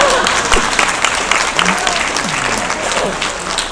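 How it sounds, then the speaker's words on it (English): Audience applause fills a room at an autism awareness teen panel event, dense steady clapping that stays loud and close throughout. "Just one more round of applause."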